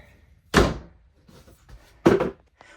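Walk-through door on a 2014 Exiss 7308 three-horse trailer with living quarters, two solid thunks about a second and a half apart, close and loud with quiet between.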